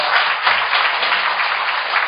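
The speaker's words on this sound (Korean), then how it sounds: "우리 이광재 지사님께 큰 박수 한번 다시 부탁드리겠습니다" An audience claps after a lecture in a steady wash of dense hand applause. It is fairly loud and continuous, with no talk over it.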